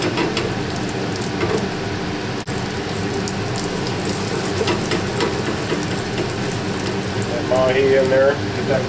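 Mahi mahi fillet with a macadamia nut crust sizzles in a pan of blended canola and olive oil with butter, a steady close frying hiss with clinks and faint kitchen noise throughout.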